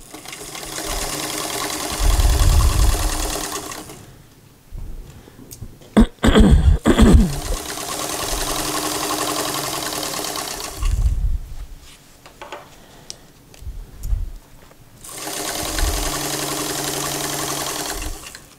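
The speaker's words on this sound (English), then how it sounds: "and then machine stitch all at 5/8 inch all the way up through that dot and all the way to the center back" A home sewing machine stitches a dress seam at a 5/8 inch allowance, running in three long steady whirring bursts separated by pauses with handling clatter, close and loud.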